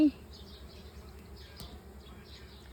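Wild bees swarm around a large nest inside a house, a faint continuous buzzing hum heard at a distance with a low steady background drone.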